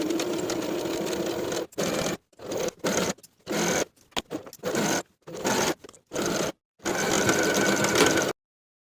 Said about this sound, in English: I'm going to sew that pocket in place along its edges from seam to seam.